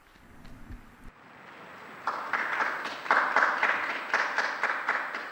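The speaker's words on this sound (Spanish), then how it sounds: "Un aplauso al nuevo beato." Crowd applause for a newly beatified person at a papal address in Rome, starting faint and quiet, then swelling into steady, fairly loud clapping from a large gathering.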